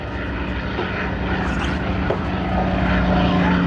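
Propeller engine of an F4U Corsair fighter at a NAS Oceana air show, a steady loud piston drone that holds for the whole stretch and swells slightly toward the end.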